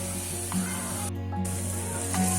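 Vegetables fry for chicken hot and sour soup over a high flame, giving a continuous close sizzle and hiss with a steady low hum underneath and a brief dip partway through.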